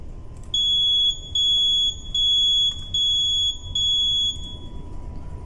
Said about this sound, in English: Buzzer I can test.